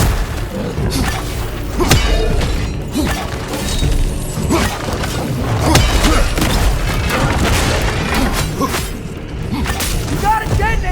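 A loud detonation blast in God of War Ragnarok's fight against the alpha, heavy booms and shattering crashes rolling over a dense, continuous battle din, with excited voices talking throughout.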